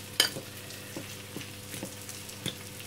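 Onion cooking over low heat in a pan, a faint, soft sizzle with a few light clicks and stirring taps.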